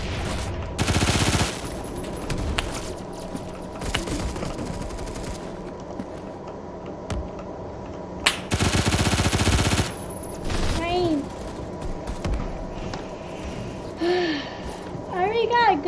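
AK-12 rifle fire in the Phantom Forces video game comes as two loud, dense bursts of rapid automatic shots, separated by quieter stretches of game noise with brief rising electronic chirps near the end.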